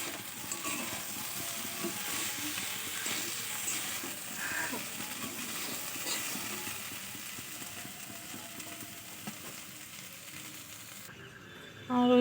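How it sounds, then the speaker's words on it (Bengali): Beetroot sizzling as it fries in a pan, a steady close hiss with faint stirring scrapes throughout, ending with a brief louder knock. "বিট ভাজাটা হচ্ছে।"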